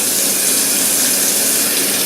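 Tap water pours steadily and loudly into a sink while yellow chili peppers are rinsed, a constant close rushing splash with no voices.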